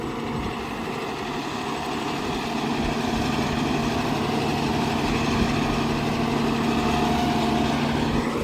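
Steady drone of a Swaraj 969 FE CRDI 70 HP tractor engine pulling a cultivator through a four-year-old sugarcane field, a continuous even rumble with a slight rise in loudness partway through, no voices.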